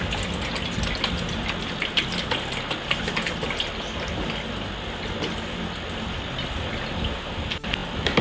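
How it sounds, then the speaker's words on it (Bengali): Cold water poured into a kitchen bowl for a lassi makes a steady, fairly loud splashing hiss that runs for several seconds without a break. "বাটির মধ্যে আমি ঠান্ডা জল দিয়ে দিলাম।"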